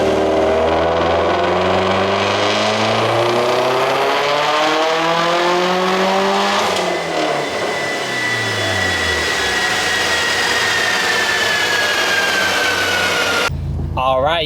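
Tuned Subaru STi engine revving hard while driving around a parking lot, loud rising and falling harmonic sweeps through repeated accelerations and shifts, close and dominant throughout with no talking.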